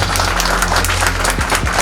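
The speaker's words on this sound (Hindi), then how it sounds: "जोरदार तालियों से इस्तकबाल" An audience claps warmly to welcome a guest at a teachers' organization event in Patna, a dense, steady wash of many hands filling the whole stretch, loud and close, with no talking over it.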